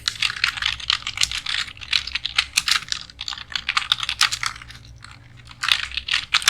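Rapid keystrokes clatter on a computer keyboard in a live class, a close, steady run of crisp clicks with a short lull before typing resumes.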